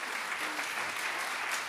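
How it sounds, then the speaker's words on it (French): Audience at a French science talk applauding the speakers, a short burst of even, dense clapping heard alone at moderate level. "On vous applaudit très fort."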